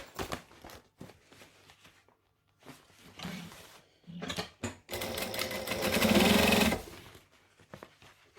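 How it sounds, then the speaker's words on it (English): A sewing machine stitches along the sides of a fabric pouch in short bursts of whirring and mechanical chatter, ending in one longer, louder run near the end. "I'm going to sew all of the other sides."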